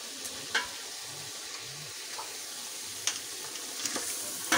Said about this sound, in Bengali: এখন এর ভিতরে আমি আমার ম্যারিনেট করে মাংসগুলো ছেড়ে দিচ্ছি